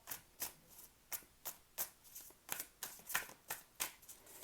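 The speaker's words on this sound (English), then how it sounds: "I'm going to shuffle now." Tarot cards shuffled by hand up close, a steady run of about a dozen crisp riffling bursts at an even, brisk rhythm with no voices.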